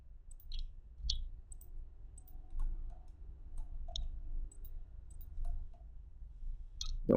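Sparse, crisp computer mouse clicks during SketchUp modeling sound one at a time at irregular intervals over a low, steady room hum.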